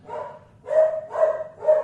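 A dog barks four times in a steady rhythm, close and loud, each bark a short tonal woof with brief gaps between.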